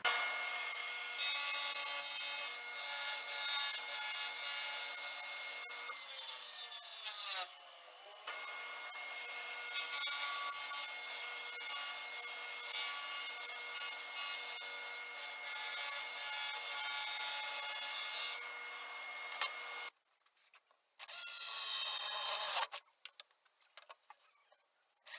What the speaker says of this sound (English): drop it on the running blade and slide it until it reaches the edge